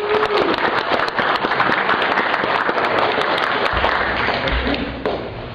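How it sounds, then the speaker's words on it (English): Audience applause at a college presentation on the Crow Water Compact settlement: dense, steady clapping from a crowd sustained throughout, loud and close, fading slightly at the end, with scattered louder individual claps. "Birgit deserves a round of applause for pulling all this together"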